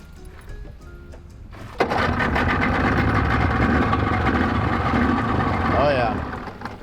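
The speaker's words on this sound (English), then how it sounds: "This is a 1994 Yamaha 90 horse motor." A 1994 Yamaha 90 horsepower outboard motor on a 1964 Club Cruiser jet fishing boat starts abruptly and runs at a steady idle, a close, continuous mechanical drone with a faint whine near the end.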